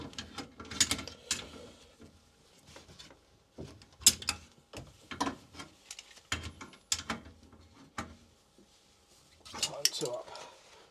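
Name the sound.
tightening heating pump valve nuts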